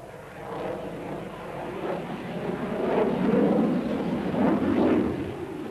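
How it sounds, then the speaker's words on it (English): A large military jet flies a tight loop at the 1993 Biggin Hill airshow, its distant engine roar a broad rumble that swells and fades without a break. "Anatoly pulls it over in a very, very tight loop for such an enormous aircraft"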